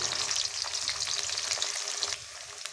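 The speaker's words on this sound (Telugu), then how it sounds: "ముందుగానే పిండి పెట్టుకున్న కాకరకాయ ముక్కలను అయితే ఇందులో వేసేసి మంచిగా ఫ్రై అయితే చేసుకోవాలి" Floured bitter gourd pieces fry in hot oil, making a steady close sizzle dotted with sharp crackles and pops, with no voices.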